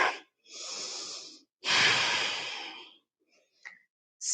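Deep breathing during an intermediate yoga flow, with two long, close, airy breaths, a steady inhale and a fuller exhale, separated by silence and followed by a few faint small sounds.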